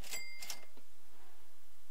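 A cash register in a Bernd das Brot video game gives a short, bright ringing ding at the very start, then the clip settles into a faint low hum.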